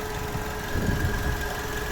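A 2009 VW Golf V with its 1.6 MPI BSE petrol engine runs at idle close by, a steady hum with faint knocking vibration and a brief low rumble midway.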